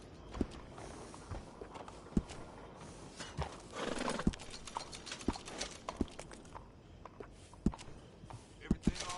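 A horse in Red Dead Redemption 2 snorts and whinnies once amid scattered hoof clops and footsteps, fairly close but quiet, with a voice speaking briefly.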